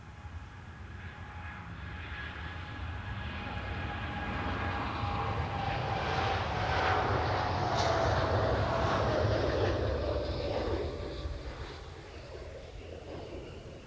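A TUI airliner at Amsterdam Schiphol swells into a steady jet roar with a thin falling whine, peaking in the middle and easing off toward the end, heard from a moderate distance.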